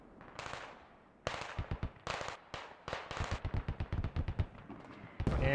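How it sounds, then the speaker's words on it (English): Heavy artillery barrage in the military shooter Squad, landing on a capture point: a rapid cluster of loud, sharp detonations and blasts, some overlapping, after a brief lull near the start. "Artillery has been called in on the point by the Chinese commander."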